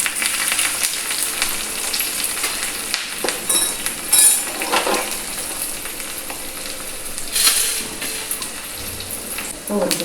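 Oil crackles and sizzles steadily as onions fry for a fish curry, with occasional stirring clinks and a voice speaking faintly underneath.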